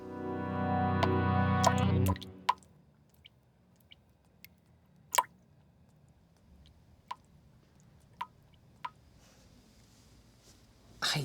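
Isolated water drips fall at irregular intervals in a dark apartment corner, sharp and fairly close, following a brief tonal sound at the start.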